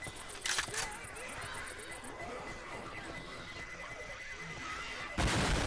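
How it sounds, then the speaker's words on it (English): A pipe bomb in the video game Left 4 Dead 2, heard as a rhythmic beeping followed by a loud, sudden blast at the end, over constant game noise and crowd clamor. "Pipe bomb."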